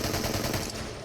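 A rapid, continuous burst of full-auto fire from a 9x18 gun in the shooter game Into The Radius, loud and close with dense overlapping shots.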